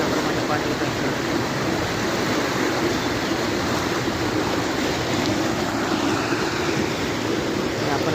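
After monsoon rain, floodwater flows steadily over a bridge at Vasangaon as a broad, continuous rushing roar with no breaks. The noise fills the whole clip evenly, and it sounds like a close, heavy current.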